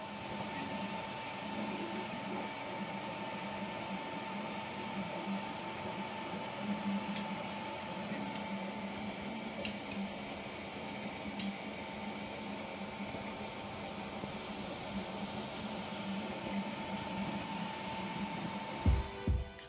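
A Longer LK5 Pro large-format 3D printer runs steadily with quiet fans, giving a continuous hum with faint ticking and stepper whir at an even level, with no talk over it.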